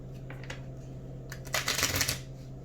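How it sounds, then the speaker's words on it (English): Tarot cards riffle-shuffled close by in two quick bursts, a short flutter at the start and a louder, longer riffle in the second half, over a steady low hum with no talking. "One more shuffle just to get a nice mix again."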